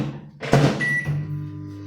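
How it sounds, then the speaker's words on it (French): A microwave oven runs while melting butter for a chocolate pound cake, giving a steady low hum after a soft clunk, with a brief high beep partway through. "je vais mettre mon beurre au micro-ondes"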